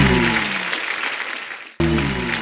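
Audience applause at a live comedy and poetry show, a dense burst of clapping that fades, cuts briefly, then resumes strongly, close and full.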